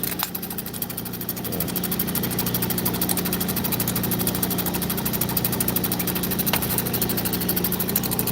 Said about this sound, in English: I work on a Diamond Pacific Genie.